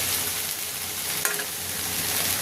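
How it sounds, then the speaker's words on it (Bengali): Vegetables fry and sizzle steadily in a hot pan while a utensil stirs, with one brief scrape partway through; no voices. "একসাথে নাড়াচাড়া করে ভেজে নেব।"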